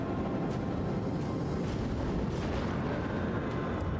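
Torpedoes launched in Rogue Trader, a space battle game: a dense, continuous heavy rumble of launch and firing sounds with scattered sharper bursts, loud and sustained throughout.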